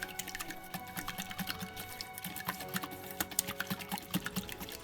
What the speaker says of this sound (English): And then whisk it all together.